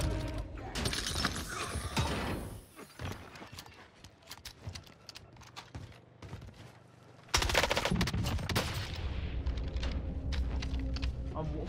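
A Model 680 shotgun fires in Warzone on Rebirth Island, with loud, sharp blasts early on and another burst of shots and clatter partway through, mixed with game noise.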